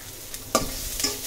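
Onions with a little salt frying in a pan: a steady soft sizzle runs throughout, broken by two brief louder scrapes or stirs, with no voices.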